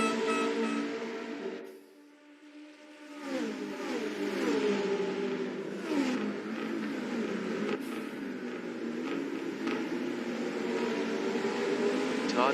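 McLaren race car in a virtual racing game, its engine revving high and steady with repeated gear shifts, dipping briefly on a lift-off and then climbing again for several seconds, loud and continuous.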